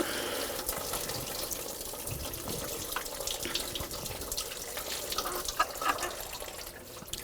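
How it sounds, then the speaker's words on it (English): Coolant from a 2000-2006 BMW X5 3.0L inline-six pours in a steady splashing stream into a drain bucket, a continuous close gurgle of liquid with no voice. "there's the coolant going in the drain bucket"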